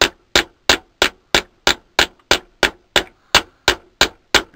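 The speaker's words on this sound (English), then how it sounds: "I start hitting it with my ball peen hammer" A ball peen hammer strikes a metal disc being shaped into a spoon, thirteen sharp ringing blows in an even, steady rhythm, close and loud with brief decays between hits.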